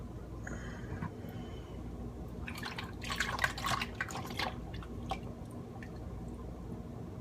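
Buttermilk is poured over chicken pieces in a bowl, giving soft wet splashing and dripping sounds that cluster in the middle. The sounds are close but fairly quiet over a low background hum, and nobody talks.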